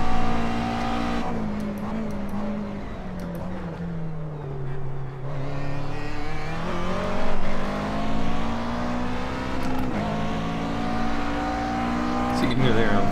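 Engine of a race car in the iRacing simulator at Sebring, a continuous buzzing drone that dips and climbs as gears change, with a few sharp shift breaks and faint tire squeal, at moderate level.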